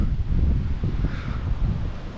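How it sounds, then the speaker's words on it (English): Strong gusts buffet the microphone of a GoPro Hero 10 Black action camera outdoors on a windy day, a loud continuous low roar and rumble with no voices. "It's kind of a windy day."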